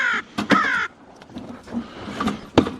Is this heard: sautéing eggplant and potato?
no